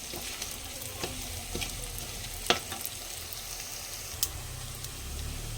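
Ingredients for a village-style katla fish curry frying in a pan, a soft steady sizzle with occasional sharp clinks and scrapes of a spoon against the metal.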